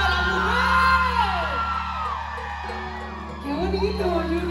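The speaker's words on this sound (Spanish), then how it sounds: "esta noche quiero oír ese grito de las mujeres." A crowd of women screaming at a live concert in North Carolina, sustained loud whoops and yells rising and falling over a steady low musical hum, filling the space from a distance.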